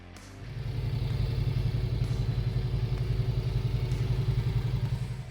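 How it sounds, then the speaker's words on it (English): A Ducati Multistrada V4 Grand Tour adventure motorcycle engine rumbles with a rapid, throbbing low pulse, rising in quickly and holding at a steady moderate level throughout, alone without talk. "Number 2, the Ducati Multistrada V Force Grand Tour."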